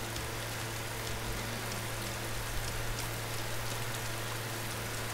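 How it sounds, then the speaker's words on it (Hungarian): Steady rain falls in the DayZ video game, a dense, even hiss that holds without a break over a faint low hum, with no talking. "De megint esik"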